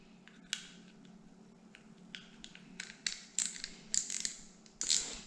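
Plastic clicks and snaps as the spool of a Shimano spinning reel is fitted back onto the reel, a run of close, sharp ticks growing louder toward the end, with no talk.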